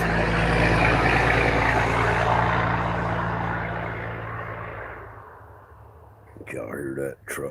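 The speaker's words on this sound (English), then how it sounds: "Y'all hear that truck go by right there?" A truck passes by outdoors, a broad rumbling roar that is loud at first and fades away over several seconds, followed by a voice speaking.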